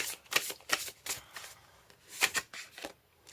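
Tarot cards shuffled and drawn, quick papery riffles and flicks in uneven bursts, close and moderately soft, with brief gaps between handling sounds and no talking.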